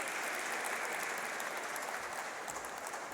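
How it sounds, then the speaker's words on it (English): An audience claps steadily at a store launch event after a steel pan performance, a continuous, moderately loud patter of many hands with no voices over it. "Give him a round of applause again,"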